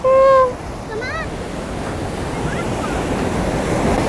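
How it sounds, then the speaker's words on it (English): Pacific Ocean waves on the Mazatlan boardwalk, a broad continuous roar of surf with wind buffeting the microphone, after a brief whistle-like tone and short vocal sounds at the start. "Look at these waves. Look how big they are."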